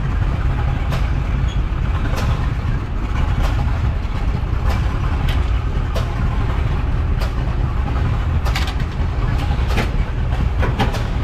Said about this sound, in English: Now here's a bigger hit and miss engine, even harder to start.